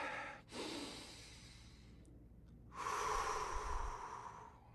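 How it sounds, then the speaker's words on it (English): A slow, deep cleansing breath during a mindful break: a soft inhale, a short pause, then a long, audible exhale, close and quiet with no talk. "take in a nice, deep, cleansing breath"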